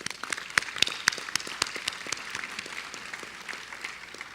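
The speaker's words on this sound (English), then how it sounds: "Let's give all of our sponsors a round of applause." An audience at an evening award ceremony claps for the sponsors, the applause steady and moderately distant with individual sharp claps standing out from the wash.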